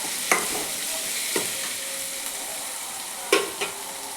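Food fries in a pan with salt and turmeric, giving a constant bright sizzle. A few sharp spoon clicks and scrapes break in as the mixture is stirred.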